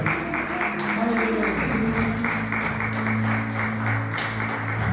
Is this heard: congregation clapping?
yes